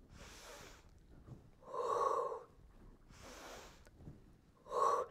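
Deep, audible breaths during a Pilates exercise: four inhales and exhales come in an even rhythm, close and fairly soft, with no talking over them.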